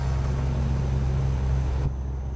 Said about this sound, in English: I got the traffic sounds turned down just so it's not too overpowering, and I gotta crank the engine sounds